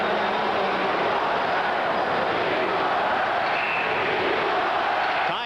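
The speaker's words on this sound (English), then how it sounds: "you can hear the crowd's reaction as the Jets tried to get Paul Dvorsky to call a penalty" Crowd at a 1993 Winnipeg Jets vs. Vancouver Canucks NHL hockey game, a loud, dense roar of arena fans that swells and holds steady, with a faint rising whistle near the end.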